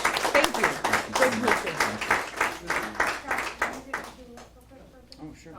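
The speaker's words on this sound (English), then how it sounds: "One final round of applause" Audience applauding for Ohio Senator Charleta Tavares at a guest talk, dense rapid clapping that swells then thins out and fades near the end, with voices faintly underneath.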